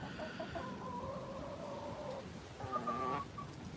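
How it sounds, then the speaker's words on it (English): Several chickens cluck close by in a run of short, overlapping calls, with a second louder burst of clucking near the end and no talking. "These chickens are always following me every time I come around."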